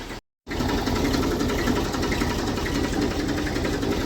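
A Massey Ferguson 35 tractor runs slowly in top gear along a road, its engine putting out a loud, close, steady rapid chugging after a brief dropout at the start, with no voices heard.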